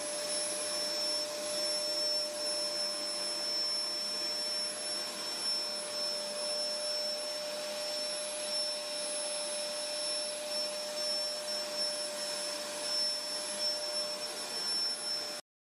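A vacuum cleaner runs continuously with a steady, high whining drone, the same level from start to finish before cutting off.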